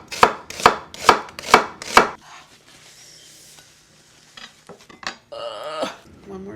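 A knife chopping a strong onion on a cutting board, five crisp, evenly spaced close thuds, then quieter scraping and handling noises.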